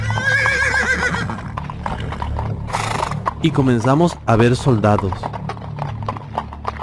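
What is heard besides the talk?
horse galloping and neighing, sound effect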